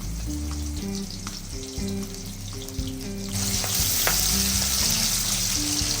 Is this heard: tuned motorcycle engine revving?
no